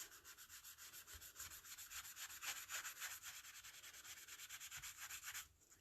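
Something is rubbed onto paper over an embossed evergreen tree design in quick, rhythmic scratchy strokes, faint and close, with no talking.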